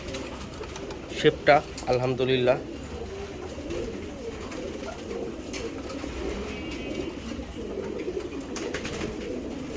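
Racing pigeons, including a dark checker cock, coo in a brief cluster of low throaty notes near the start, followed by quieter background murmuring while someone talks.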